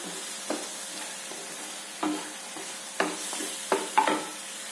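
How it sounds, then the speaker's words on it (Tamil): Chopped ridge gourd sautéing in oil in a pan, a faint steady sizzle with a handful of sharp scraping stir strokes spaced irregularly across the clip, no voices. "நான் பீக்கங்காயை போட்டு நல்லா எண்ணெயிலே வதங்கிடுச்சு."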